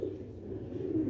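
A grey Sialkoti Ali-wala pigeon gives a low, steady cooing drone close at hand, brief and fairly quiet with nothing else on top.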